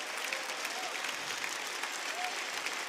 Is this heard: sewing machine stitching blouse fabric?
no